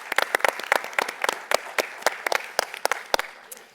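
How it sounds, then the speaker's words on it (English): Sparse applause from a conference audience at a business travel event, made of distinct individual claps at an uneven rhythm that thin out toward the end, moderately close with no talk over it. "Let's give her an applause."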